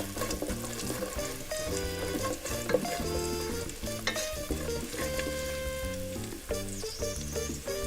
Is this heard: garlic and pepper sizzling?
yes